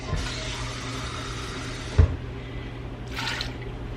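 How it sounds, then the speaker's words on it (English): Water runs into an Instant Pot as a steady splashing pour, broken by one brief knock midway and a short hiss toward the end, with no talking. "I'm gonna add some water to that"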